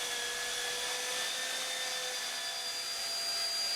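A power planer or sander shapes a wooden Aleutian-style kayak paddle, giving a steady, loud, close-up whine and rush of cutting that runs unbroken throughout, with no voices.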